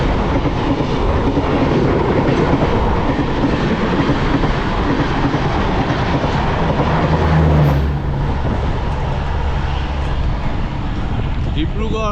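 The Dibrugarh–New Delhi Rajdhani Express roars past close by a stationary train, a loud, continuous rushing rumble with clattering wheels that thins out as it passes.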